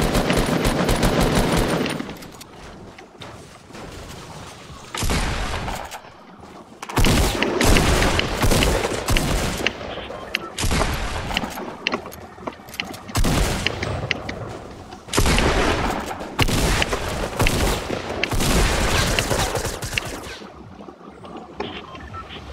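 Bursts of automatic and rapid gunfire from shooting nearby, loud and sustained in long volleys with brief pauses between them, no talk over it.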